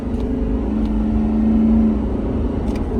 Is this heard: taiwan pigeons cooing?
no